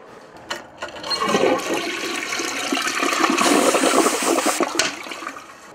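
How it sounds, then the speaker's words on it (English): A household toilet flushes in one continuous, loud rush of water that swells and churns for several seconds, then thins out near the end, with no voices over it. "Ever wonder what happens to the waste that you flush down your toilet"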